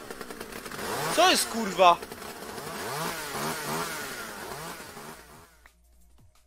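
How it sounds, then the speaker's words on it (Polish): A beaver runs a chainsaw in a zombie video game, a buzzing, revving engine whine that rises and falls in waves, while a man exclaims over it. "bober odpalił piłę w zębach i drzewa zaczął kosić"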